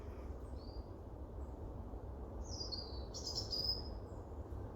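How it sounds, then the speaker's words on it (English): Faint, sparse bird chirps and short twitters sound over a low, steady outdoor rumble, with no one speaking. "much closer to me, I can hear the birds twittering away."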